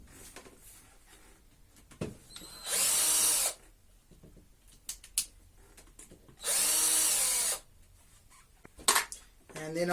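Two short, close whirring bursts of a power drill backing out the side screws of a Baja 5B motor, separated by quiet handling clicks and a faint voice.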